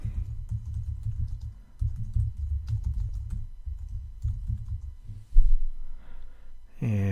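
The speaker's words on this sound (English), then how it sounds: "I will type in WordPress Backup to Dropbox." Typing on a computer keyboard while searching for a WordPress plugin, a steady patter of close keystrokes over a low hum, with a single louder knock near the end.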